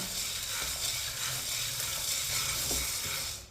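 Chickpeas and makhana (fox nuts) roasting in a pan over low heat, giving a steady soft sizzle with light scraping and stirring throughout, fairly close and even in level, with no talking.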